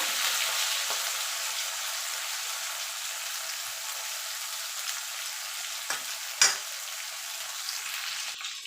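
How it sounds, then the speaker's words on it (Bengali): Okra frying lightly in a pan makes a soft, continuous sizzle, fairly faint and steady, broken by a couple of brief stirring clinks, with no talking. "ভেন্ডিগুলো দিয়ে হালকা করে ভেজে নেব"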